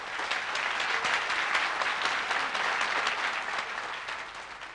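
A large audience applauds at a Tamil stage event honouring the poet Vaali, producing a broad, sustained wash of clapping at moderate distance with no voices on top.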